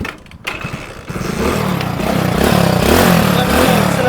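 A second-hand motorcycle engine cranks and catches after a brief click, then settles into a loud, steady idle with a rhythmic chugging pulse, close by.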